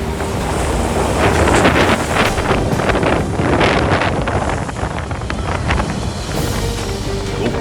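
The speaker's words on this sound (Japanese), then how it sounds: "極寒と強風、 そしてうねるような荒波の中" Strong wind buffets the microphone aboard a tuna fishing boat out at sea off Oma, with rough swells and waves washing around the hull, loud and continuous throughout.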